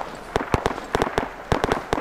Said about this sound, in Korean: 우리한테 쏘는 것 같은데? 총알 튀는 소리가 들리는데?